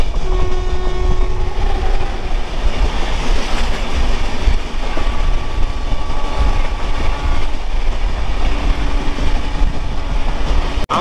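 A Rupusi Bangla Express passenger train running between Kolkata and Purulia: steady loud rolling rumble with rhythmic wheel clatter and tonal horn-like hums throughout, with no voices.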